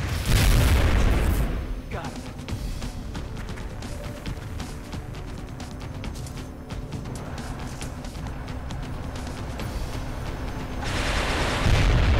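Heavy gunfire from soldiers shooting small alien enemies in the strategy game XCOM Enemy Unknown: a loud booming blast, then a dense, continuous stretch of rattling shots and impacts, swelling louder again at the end.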